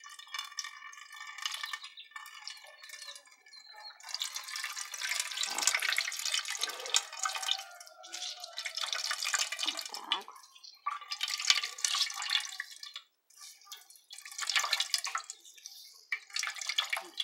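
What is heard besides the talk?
water dripping while being squeezed out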